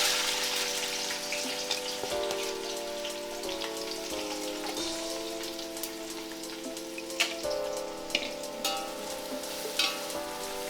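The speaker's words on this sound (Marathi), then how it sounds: "कांदा छान आपल्याला भाजून घ्यायचा आहे" Chopped onion fries in a pan with bay leaf for a Hyderabadi chicken dum biryani, a steady close sizzle and crackle with small pops and occasional stirring scrapes, heard throughout and alone.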